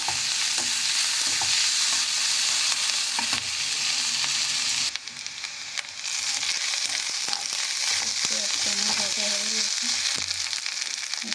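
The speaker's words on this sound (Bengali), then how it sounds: "পেঁয়াজটাকে একটু ব্রাউন করে ভেজে নেবো" Onions frying in a pan and being stirred until brown, giving a steady, close sizzle throughout with scraping spatula strokes, a short dip in the middle, and no talking.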